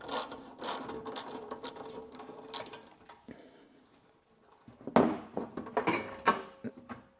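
Mechanical clicking and ratcheting from loosening the belt cover nuts on a log splitter, close and fairly loud in irregular bursts, with a quieter pause in the middle before a busier stretch of clatter resumes.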